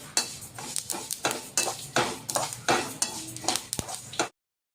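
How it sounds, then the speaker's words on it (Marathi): Peanuts dry roasting in a pan while being stirred, a run of repeated scraping, rattling strokes in an irregular rhythm, close and fairly loud, ending abruptly. "आता इथे शेंगदाणे भाजून घेत आहे"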